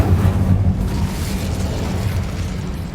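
A fire spell cast in Hogwarts Legacy gives a loud, sustained burst of flame that roars and booms for the full few seconds, with a heavy low rumble throughout.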